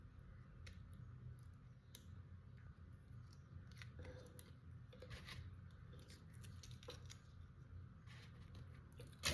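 Scissors snip through a plastic bottle being cut into flower shapes, giving faint, quick crisp cuts and ticks over a low background hum, heard close and quiet with no talking.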